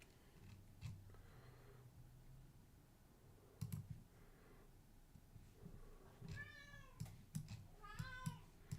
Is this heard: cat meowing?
yes